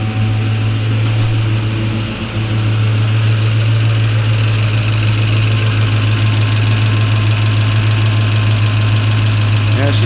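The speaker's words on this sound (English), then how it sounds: "She's idling. She didn't sound very good on startup there." A 1993 Ford Mustang Cobra engine idles just after startup with a slightly rough sound, holding a loud, steady rumble with a faint knock and no break.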